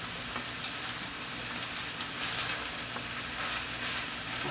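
Ground beef seasoned with cumin sears in a hot pan, giving a steady, dense sizzle and crackle that runs without a break, close by and with no talk over it.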